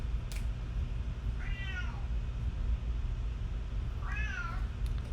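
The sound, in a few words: cat meowing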